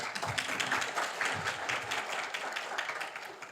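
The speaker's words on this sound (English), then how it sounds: "Mike McDermott, please stand up and give yourself a hand of applause here." An audience applauds at a commemorative gathering, producing steady, dense clapping that carries on throughout and slowly fades near the end.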